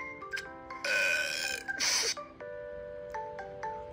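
A cartoonish burp sound effect from the game Talking Ginger 2, a loud bright burst among tonal electronic chimes and blips.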